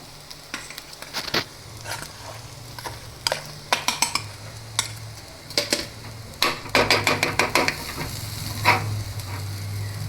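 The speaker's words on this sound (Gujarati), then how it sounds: "હવે આને મિક્સ હલાવીને કરી નાખીએ એક ગ્લાસથી" A potato and spice mixture for crispy matar rolls is stirred in a pan with a glass, giving repeated close scraping knocks and clinks over a low steady sizzle, with bursts of quicker strokes near the end and no voices.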